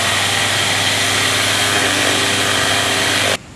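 A Festool random orbital sander set to a larger stroke runs with a steady, loud whine and buzz, then cuts off abruptly just before the end.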